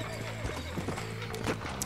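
Horse hooves clip-clopping in the Western video game Red Dead Redemption, with a whinny mixed in over background game sound; the rhythmic steps are close and moderately loud.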